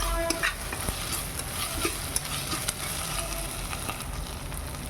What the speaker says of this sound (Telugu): చూడండి, అడుగు పట్టకుండా వేయించుకుంటున్నాను.